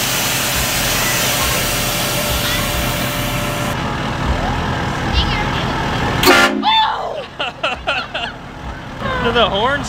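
A loud truck horn blasts in a long sustained tone over an idling engine at a cars and coffee meet, then cuts off as people start talking nearby.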